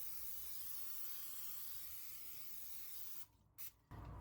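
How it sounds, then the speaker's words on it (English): A steady hiss of avocado or olive oil spray onto a baking pan runs for about three seconds, then breaks into a few short spurts. "We're going to spray it with avocado oil, olive oil."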